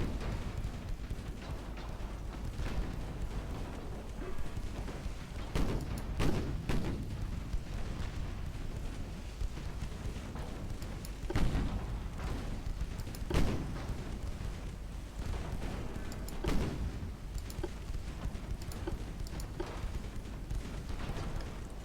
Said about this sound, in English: Get all those guns firing.